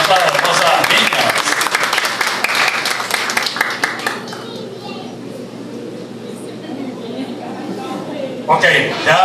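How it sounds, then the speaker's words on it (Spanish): Audience clapping for a girls' nationalist dance group at a parish event in La Sierrita, Mara, loud and dense at first, then thinning and fading, with a voice talking over it and a brief rise near the end. "Un aplauso para estas hermosas niñas."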